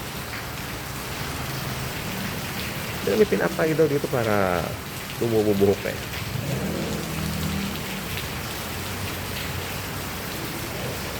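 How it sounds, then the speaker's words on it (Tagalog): Heavy rain pours down steadily throughout, a loud continuous hiss of drops on surfaces, while a person talks briefly over it in the middle. "Lakas ng ulan, ha?"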